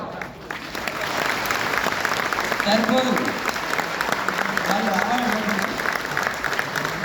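An audience at a real estate event in Warangal applauds in a sustained, dense burst of clapping, with a voice speaking over it partway through.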